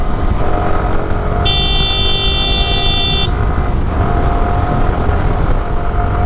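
Yamaha R15M World GP 60th Anniversary Edition motorcycle being ridden on a road, a loud steady engine drone with wind and traffic noise, and a high horn toot from another vehicle sounding for about two seconds midway.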